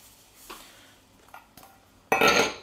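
Sliced apples mixed with sugar and cinnamon in a bowl: a few soft clinks and taps, then a loud burst of rustling, scraping utensil-on-bowl noise at the end, close up with no talking.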